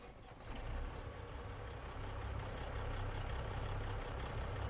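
A Cat motor truck engine starting up in a modded farming video game, a sudden rise into a steady, loud, broadband rumble that holds through to the end with no talk.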